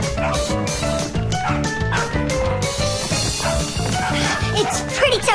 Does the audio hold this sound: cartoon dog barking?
yes